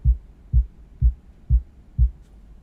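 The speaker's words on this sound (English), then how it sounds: "underneath that, he's got a sub kick" Five deep, booming kick-drum thumps land at an even, steady pulse, each one short and heavy with nothing else playing.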